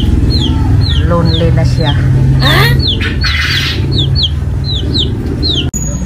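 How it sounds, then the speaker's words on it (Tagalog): A 45-day-old chicken, kept alone, gives repeated short, high chirping clucks close by over a steady background hum, with a person speaking briefly partway through. "Yung aking manok naman na 45 days, nag-iisa na lang siya."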